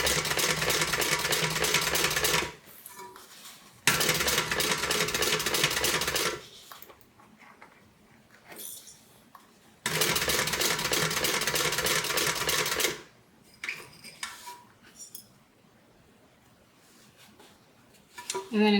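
A sewing machine back-stitches bias binding on a multi-compartment tote bag, running in steady loud, close mechanical bursts of a few seconds each, separated by pauses with faint handling and brief talk.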